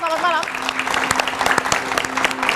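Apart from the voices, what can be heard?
studio audience applause for the guests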